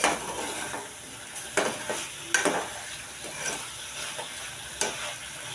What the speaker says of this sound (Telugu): అలాగే చికెన్ మసాలా కూడా తీసుకుందాం. ఒకసారి కలుపుకుందాము.